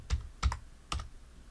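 Fingers tap a computer keyboard in a few quick, close keystrokes, spread in three brief bursts over a quiet room, with no talking.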